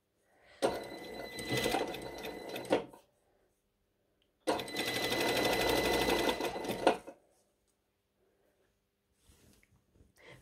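A sewing machine stitches a bottom hem on dress fabric in two close, steady runs of about two and three seconds, separated by a pause, with quiet handling noises afterward.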